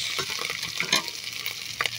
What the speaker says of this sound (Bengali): এখন নাড়াচাড়া করে ভেজে নিব মশলাগুলো।